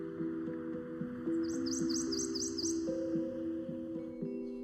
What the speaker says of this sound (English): Each spring in woods everywhere, male songbirds begin singing in an attempt to woo females.